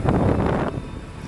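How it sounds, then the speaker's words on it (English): Heavy wind buffeting the microphone on the Pacific Crest Trail near a growing wildfire, a loud broadband rumble that drops off partway through and continues more softly. "it is really windy. I'm sure you can hear"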